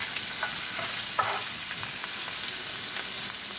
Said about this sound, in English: As the oil start to heat up, I'll bring garlic. I'll bring ginger,